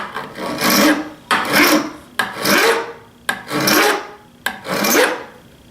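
A metal file rasps across the edge of a screw on a table saw insert in five long, even strokes separated by short pauses, close and fairly loud.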